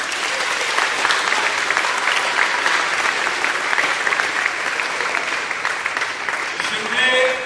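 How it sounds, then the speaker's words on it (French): A crowd at a European film festival screening claps steadily and warmly for several seconds, a dense sustained wave of applause with no break. "Est-ce qu'on peut encore applaudir pour ces chefs-d'œuvre?"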